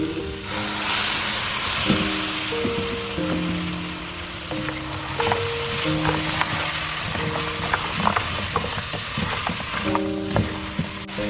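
Mutton pieces fry in stock for yakhni pulao, sizzling steadily and loudly throughout with stirring clatter and occasional spoon scrapes, no talk.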